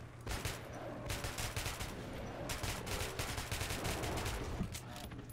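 Rapid gunfire in Metro 2033 Redux, dense sustained bursts of automatic shots running almost the whole time at a fairly low level.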